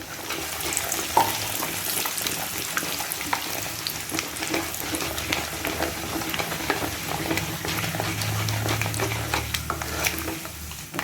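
Chana dal and dried red chillies fry in hot oil for South Indian rice upma, a steady close sizzle broken by scattered stirring clicks and spoon scrapes, with no voices.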